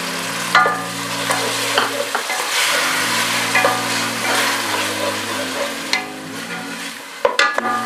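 Tomato paste frying in a pan with garlic and ginger for chickpea curry, a steady sizzle with stirring scrapes and occasional clinks, close and moderately loud, with no talk.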